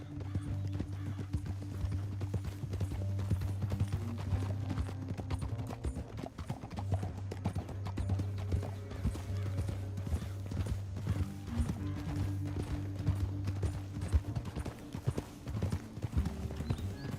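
Steady clip-clop of horse hooves trotting throughout in Red Dead Redemption 2, loud and continuous, with a low droning background underneath.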